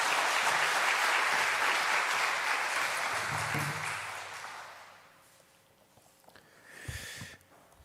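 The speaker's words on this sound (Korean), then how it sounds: "영광의 박수 하나님께." Congregation applauding in a Korean church during a revival service, loud sustained clapping that fades out after about five seconds, leaving quiet room sound and a brief murmur.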